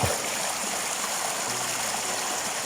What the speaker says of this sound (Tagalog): Napakalamig yung tubig.